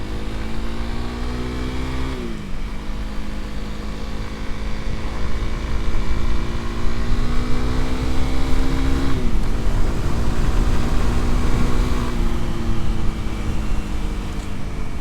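A 2025 Honda CRF300L motorcycle rides along with a steady single-cylinder drone, loud and close, with engine pitch rising through gears and two gear-change dips.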